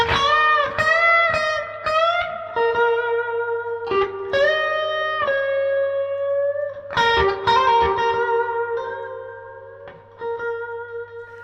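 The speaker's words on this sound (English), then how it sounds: "It's kind of a dripping reverb" An electric guitar plays slow, sustained blues notes and chords through a handwired '64 Custom Princeton Reverb amp and a Moore Blues Crab pedal, with a heavy dripping spring reverb letting each note ring out over a faint steady hum.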